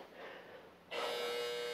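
An interval timer goes off during a home cardio and core workout. After a quiet stretch, a sharp, steady electronic tone switches on abruptly partway through and holds at a constant level to the end.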